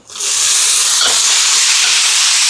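Tomatoes dropped into a hot pan to sauté set off a sudden loud sizzle that quickly swells into a steady, intense hiss and stays strong throughout, close up.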